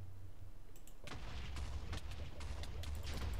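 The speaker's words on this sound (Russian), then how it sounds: "Он взрывается." An explosion in Minecraft Lucky Wars: a muffled boom hits about a second in, followed by a series of crackling thumps and clicks, moderately loud against a steady low background.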